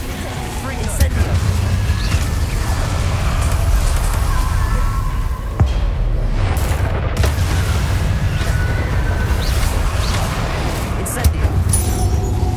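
Fire spell cast repeatedly during a Hogwarts Legacy duel, heard as a continuous loud roar of bursts and booming impacts with a deep rumble, other spell effects layered in and brief gaps near the middle.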